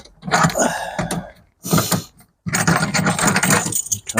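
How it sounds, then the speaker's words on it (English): A Camlock fitting on a hose is coupled onto a bleach tank on a stainless steel van-pack softwash system, giving close, loud metallic clunks and scraping mechanism sounds in bursts, with a short pause between them. "connect straight onto the bleach tank with the Camlock fitting there."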